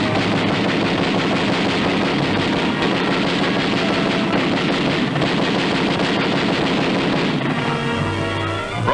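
Wartime newsreel soundtrack of jungle combat: dense, continuous rattling machine-gun fire mixed with artillery booms, loud and unbroken throughout, with no pauses.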